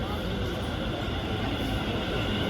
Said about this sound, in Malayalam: ഇതാണ് നമുക്ക് പോകേണ്ട ട്രെയിൻ വന്നിട്ടുണ്ട്